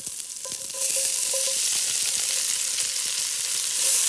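Onion browning in a potjie pot over a wood fire gives a steady, close hiss and crackle of frying, with faint clinks near the start.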